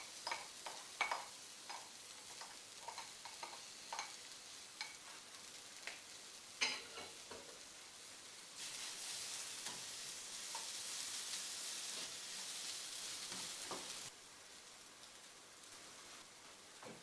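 Chopped onions sizzle and fry in a pan for a Spanish omelette, a steady crackle punctuated by stirring clicks, swelling louder midway as the onions spread and hiss, then settling back to a softer sizzle; no one speaks.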